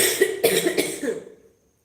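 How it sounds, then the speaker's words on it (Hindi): A short burst of three or four close, raspy coughs in quick succession, fading out into silence. "खांसी मुझको बहुत आती"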